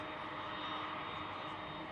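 A FedEx cargo plane on approach to land rumbles as a steady, fairly loud aircraft engine roar that holds for the whole two seconds, with no voices over it.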